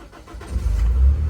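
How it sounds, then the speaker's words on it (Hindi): A 2006 Honda car being started, its engine catching after a short crank and settling into a loud, steady low idle that swells slightly toward the end. "अब जरा बिस्मिल्लाह पढ़ के गड्डी स्टार्ट करते हैं"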